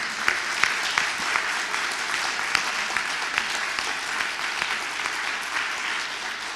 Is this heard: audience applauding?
yes